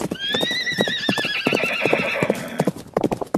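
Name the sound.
horse neighing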